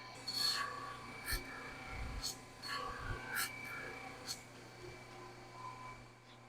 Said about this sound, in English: Let me show you all what I'm talking about on this Scotch-Brite wheel too.